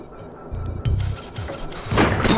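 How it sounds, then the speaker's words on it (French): A video game explosion in Oddworld: Abe's Oddysee, heard as a few heavy low thuds and booms followed by a brighter crashing burst near the end, moderately loud with no talk. "Explosion."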